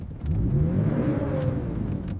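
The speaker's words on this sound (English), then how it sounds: "The engine sounds perfect" A McLaren F1 engine, restored after 25 years buried in jungle, revs steadily with a rising, sustained roar, close and loud throughout.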